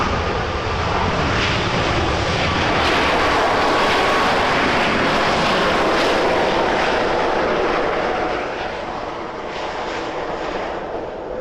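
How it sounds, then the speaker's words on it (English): A landing airliner's thrust reversers roar at Vancouver airport in a loud, broad, sustained rush. It swells and then eases slightly toward the end, with no voices over it. "Those are some reversers."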